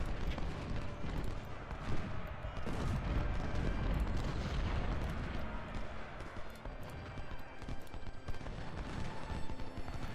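A Civil War battle in the Ultimate General video game at Shiloh: dense, continuous crackling musket fire with booming artillery rolling underneath, and a faint voice at times.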